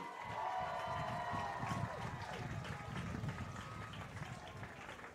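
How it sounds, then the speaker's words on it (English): A crowd applauds and cheers for a girls soccer team at a school sports event: a steady, dense wash of clapping and shouts fills the whole stretch, with voices mixed in. "let's give a big round of applause for our girls soccer team."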